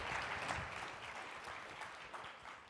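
A small conference audience claps steadily, a soft patter of many hands that slowly fades, heard from a distance.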